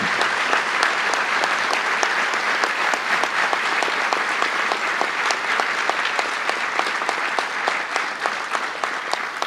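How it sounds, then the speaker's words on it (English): Sustained applause from an audience at a police graduation ceremony, dense steady clapping filling the room without letup for the whole stretch. "I'd like to give them a round of applause"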